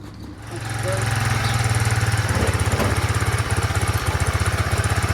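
A Chinese 150cc scooter engine fires up and settles into a steady, loud, close idle with a rapid rhythmic putter that holds throughout.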